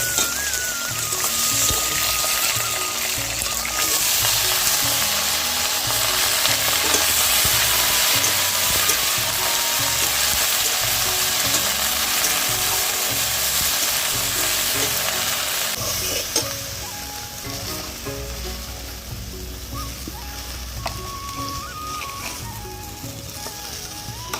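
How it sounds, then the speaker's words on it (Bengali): Mustard seeds and tamarind fry in hot oil with a steady, loud sizzle and occasional stirring scrapes. The sizzle drops slightly partway through and then carries on without any voices. "প্রথমে তেল দিয়েছি, তারপরে সর্ষে দিয়েছি, তারপরে দিয়ে দিলাম তেঁতুল"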